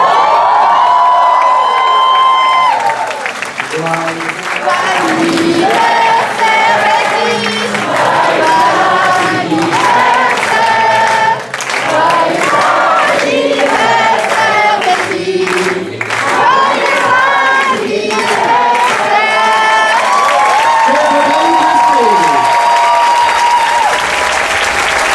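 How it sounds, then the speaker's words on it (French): A large burlesque-show audience applauds and cheers for the hostess on her birthday, loud, sustained clapping with whoops and shouts that continue throughout with a melody playing underneath. "a big round of applause for your hostess with the mostest"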